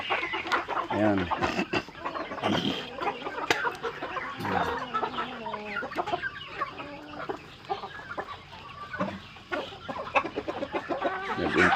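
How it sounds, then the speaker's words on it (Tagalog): Rhode Island Red chickens clucking continuously on a small backyard farm, many birds close by with overlapping calls, and a person speaks briefly. "Ito naman yung mga Rhode Island namin."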